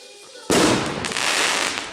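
A firework rocket bursts suddenly and loudly at New Year's Eve midnight, then a sustained crackling roar fills the air.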